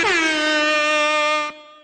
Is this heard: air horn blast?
yes